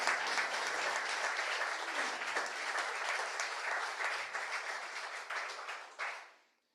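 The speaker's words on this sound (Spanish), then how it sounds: "Dale un fuerte aplauso al Señor." A church congregation claps together in loud, steady applause that carries on for several seconds before fading out abruptly at the end.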